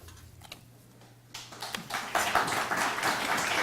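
Applause from a small audience at a poetry reading, starting after a quiet moment and swelling into steady, dense clapping that continues to the end.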